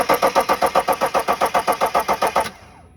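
A BMW E70 X5 35d turbo diesel cranks in a steady rapid rhythm of about a dozen loud, even starter pulses for two and a half seconds, then cuts off into near silence without catching or revving.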